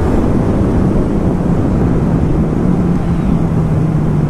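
A 2019 Honda CB1000R Plus motorcycle engine drones steadily at speed, heavily buried under loud, continuous wind rush.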